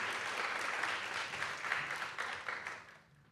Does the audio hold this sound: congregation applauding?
yes